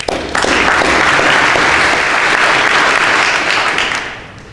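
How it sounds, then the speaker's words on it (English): An audience at a school chapel service breaks into loud, sustained applause that holds steady for about four seconds before tapering off. "let's give them a round of applause"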